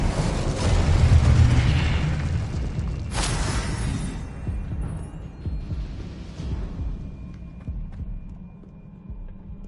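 Spell-casting effects in Hogwarts Legacy: deep booming bursts and throbbing magical hum, loudest early on, then a fading rumble with a few sharper flares of sound.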